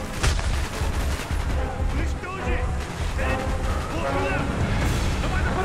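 Gunfire in the video game Call of Duty: Black Ops, dense bursts of automatic weapons and shots crackling continuously and loudly, with game voices calling out in the mix.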